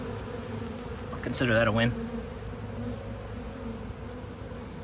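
Honeybees from a captured swarm at a homeowner's property, a steady low buzz of many bees under a short spoken remark by a man.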